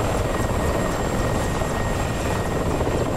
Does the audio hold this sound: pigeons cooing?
no